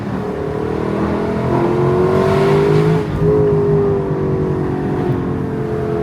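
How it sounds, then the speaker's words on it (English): A Lexus LC500's naturally aspirated V8 revs up and holds a strong, steady drone with rising pitch, briefly dips, then climbs again, loud and close. "Long live naturally aspirated V8s."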